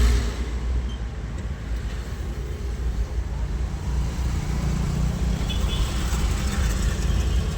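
An Isuzu 4JJ1 diesel vehicle with a low-power fault, driving in second gear at about 2,200 RPM with a steady low engine drone and road noise from inside the cab, with people talking over it.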